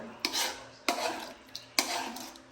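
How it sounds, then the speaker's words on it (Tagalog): Creamy spaghetti sauce is stirred in a pan with a utensil, making four distinct scraping strokes with clinks against the pan, close and moderately quiet. "Mix your sauce all together."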